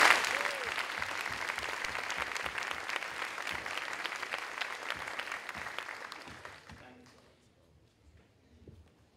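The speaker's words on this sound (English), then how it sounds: "Let's give them one more round of applause." Audience applause at a high school honors night, loud, dense clapping that goes on steadily for about six seconds and then fades to scattered claps and quiet.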